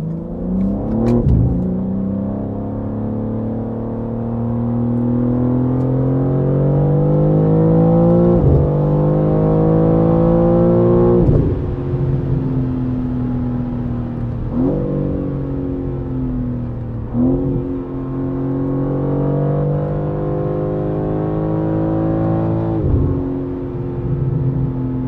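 A BMW M car engine in Sport Plus mode revs hard over about 25 seconds, its pitch climbing and dropping repeatedly with sharp throttle blips between pulls, loud and close with no talking.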